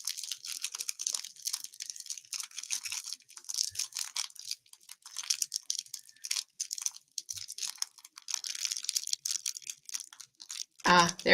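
Small plastic bag of flower tea being handled and opened, a run of close crinkling and rustling bursts scattered across the clip with a louder crackle at the end.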